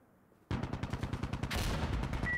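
Rapid automatic weapon fire in the shooter game Insurgency bursts in abruptly after a quiet moment and keeps rattling loud and fast, with several guns overlapping into a dense barrage near the end.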